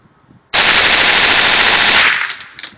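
A dense, rapid burst of about twenty .22 LR rounds fires from a slide-fire stocked Smith & Wesson M&P 15-22 rifle, with shots blurring into one loud roar for roughly a second and a half before tailing off into echo.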